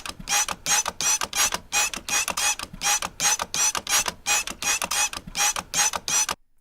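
A window cleaner spray bottle is triggered again and again in quick runs, each squeeze giving a short plastic creak and spritz, repeated rhythmically around a dozen times and heard close and clear with no voices.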